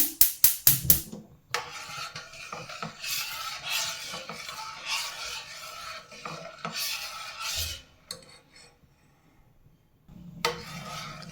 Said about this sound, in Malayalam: ഇത് നല്ലതുപോലെ ഒന്ന് ചൂടാകുന്നവരെ നമുക്ക് കണ്ടിന്യൂസ് ഇളക്കി കൊടുക്കാം